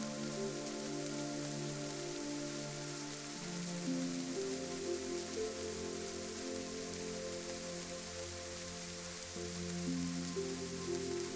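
Steady rainfall patters down in a constant soft wash, with a low droning hum layered underneath throughout.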